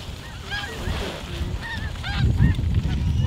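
A flock of snow geese honking during a South Dakota hunt, many overlapping nasal calls in quick irregular bursts, fairly close and loud over wind and field rumble, without speech.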